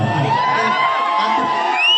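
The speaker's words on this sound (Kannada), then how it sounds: "ಅಲ್ಲಿ ಒಂದ್ಸರಿ ಜೋರ ಚಪ್ಪಾಳೆ" A live show audience cheers and whoops loudly in a brief, sustained burst of crowd noise, with high voices shouting together and no distinct clapping standing out.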